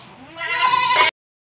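A goat of an unusual breed gives a single drawn-out bleat, close and fairly loud, with a wavering tone that cuts off abruptly.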